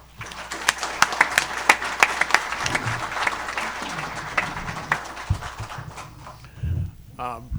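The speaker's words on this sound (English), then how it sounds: "So let's give them a round of applause." An audience at a Grizzlies press conference on the Colorado Avalanche affiliation breaks into a burst of applause with sharp individual claps, loud at first and then thinning out before a voice begins to speak.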